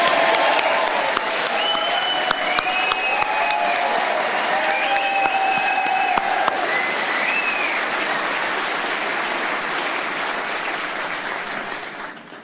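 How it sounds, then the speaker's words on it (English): Sustained applause from a crowd at a Reform UK conference in Wiltshire honouring a guest speaker, steady and dense clapping with a few whistles, holding loud for about ten seconds before tapering off at the end. "should we give another huge round of applause for the superb Anne Widdecombe?"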